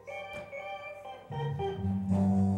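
Recorded 1960s garage rock plays at a moderate level, with sustained organ-like tones and a fuller band entering partway through, no talk over it.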